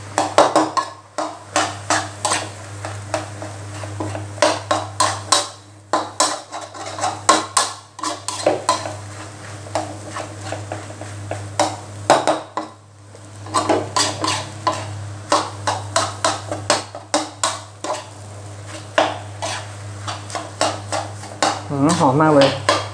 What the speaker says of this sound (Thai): แล้วก็ผัดเลยครับ